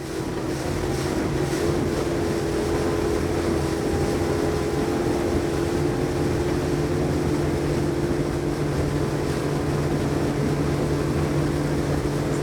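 Saxdor 270 GTO motorboat with V6 outboard running at speed toward 30 knots on open sea, a steady loud engine drone with wind buffeting and water rush throughout, no talk.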